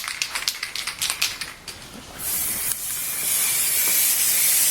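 A spray paint can hisses in short rapid bursts, then releases one long continuous spray that grows steadier and louder toward the end.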